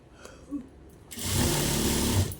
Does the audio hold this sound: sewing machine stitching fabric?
yes